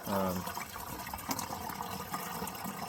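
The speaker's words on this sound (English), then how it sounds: "backpack sprayers like this, they don't hold very much water anyway, so they fill up pretty quick" Water runs from a 40-gallon gravity-flow holding tank into a backpack sprayer, making a steady, close trickling and filling sound that is loudest at the start and continues evenly.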